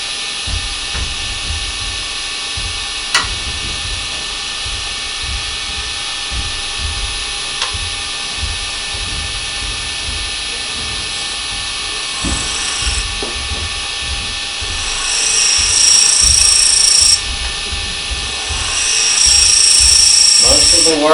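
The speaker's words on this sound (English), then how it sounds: "I'm going to hold the skew at about 45 degrees, and I'm just going to shear cut this" A skew chisel shear cutting a dome-shaped piece on a wood lathe, a steady droning whir with a continuous high whine, growing louder and brighter toward the end as the cut engages, under a voice talking.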